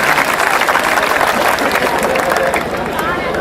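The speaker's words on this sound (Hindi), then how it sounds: "एक बार जोरदार तालियां बजाएं" A large audience at a Hindi comedy poetry event breaks into loud, sustained applause, dense clapping and crowd noise filling the whole stretch at an even level.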